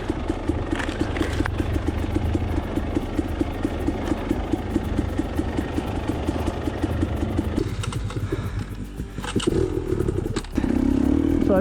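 A KTM 250 TPI two-stroke dirt bike rides a bumpy single-track trail, its engine buzzing steadily up close while the chassis rattles and clatters over rough ground, with the revs shifting near the end.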